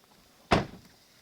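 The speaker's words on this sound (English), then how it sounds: "Let me scoot it around a little bit so I can shut the door." A door is shut once inside a horse barn during hot weather, giving a single sharp, close thump that dies away quickly against a quiet background.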